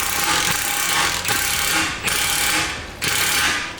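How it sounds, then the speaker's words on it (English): A ratchet wrench tightens a Speedy's equipment band clamp around an exhaust hanger on a car, giving steady, loud, close clicking in repeated strokes of about a second each with brief pauses between. "Now before welding that hanger on, I'm gonna tighten down the Speedy's equipment band clamp."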